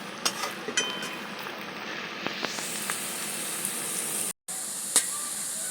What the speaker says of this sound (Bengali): সেইভাবেই আপনারা রেখে পেঁয়াজগুলোকে ভাজবেন তাহলে পেঁয়াজগুলো পুড়বে না